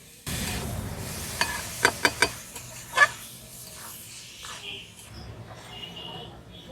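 Coconut and milk stirred in a pan over low heat, soft scraping and a faint sizzle with a few sharp spoon clinks against the pan, close and fairly quiet with some speech nearby.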